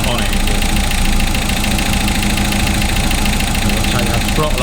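A 1955 Austin Healey engine idles while running rich, a loud, steady, close rumble with a slightly uneven beat that holds throughout.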